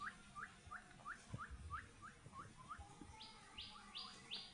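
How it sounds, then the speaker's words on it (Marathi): Birds chirp in monsoon forest near a hidden waterfall at the foot of Mahuli fort, Shahapur: a rhythmic series of quick whistled notes, then higher sweeping calls join, faint and distant over low rumbling background. "सो त्यांच्या रिदमने पक्षी आवाज करतात सेम"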